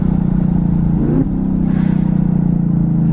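Chevrolet Camaro ZL1 with Corsa Extreme exhaust, a loud steady throbbing idle burble broken by one quick rev that rises and falls around the middle, recorded close up.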